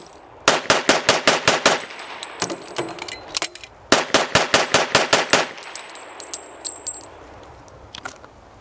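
Twenty-one rounds fired rapidly from a pistol of a 1912, century-old design, coming as two sharp strings of evenly spaced, loud shots split by a short pause with a few scattered shots, and faint metallic ringing after the bursts.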